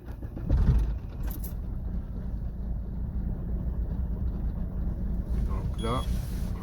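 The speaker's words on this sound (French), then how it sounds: "Il redémarre la voiture." Car engine restarting during an ABS fault diagnosis, a short starter crank then a steady idle hum carrying on close by, with wind buffeting and a jingle of keys.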